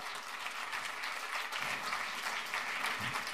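Applause from a rally crowd in Milan, a steady dense wash of clapping throughout, loud and close, with no voice over it.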